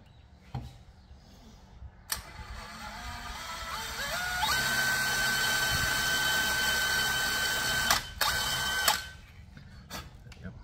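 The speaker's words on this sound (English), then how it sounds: "I'm gonna have to drill you a little bit more." A small drill whines steadily into a stuck fastener during a repair, the motor running for several seconds with a sustained high tone, preceded by scraping clicks and ending in sharp knocks.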